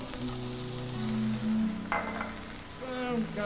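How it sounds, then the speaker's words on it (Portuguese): Chopped onion sautéing in hot oil in a frying pan for a Brazilian pirarucu dish, a steady close sizzle with stirring scrapes and brief louder crackles, under low background hum. "Para refogar o pirarucu, eu vou colocar então um pouco de cebola"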